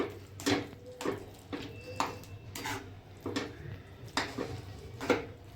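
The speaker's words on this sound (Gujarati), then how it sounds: "ધીમે ધીમે હલાવશું આ રીતે ધીમી ગેસ ફ્લેમ ઉપર" Sakariya sheero is stirred slowly with sugared milk in a pan over a low gas flame, a spoon scraping the pan in about eight regular strokes, quiet and close, with no voices.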